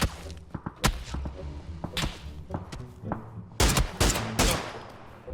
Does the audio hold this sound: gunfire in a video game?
yes